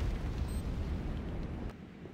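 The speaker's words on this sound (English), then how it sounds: "C4 is set. Fire in the hole." C4 explosive detonating near the bunkers in the video game Renegade, heard as a low, sustained rumbling blast that stays fairly faint and fills the whole moment without a sharp attack.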